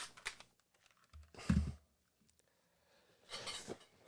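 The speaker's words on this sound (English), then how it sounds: "Using a keyboard and then press delete." Several sharp clicks and clacks from a computer keyboard, including a press of the delete key, come in separate short bursts with quiet gaps between them, close to the mic.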